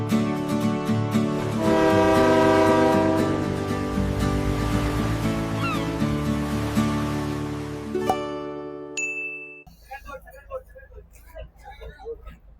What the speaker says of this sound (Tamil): டாய் ட்ரெயின்.